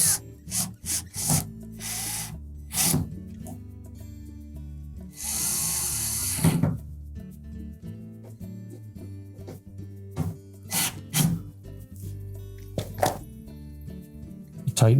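A screw is driven into the blower housing of a Samsung dryer, a short burst of driver whir amid scattered clicks, taps and handling noises of parts being fitted.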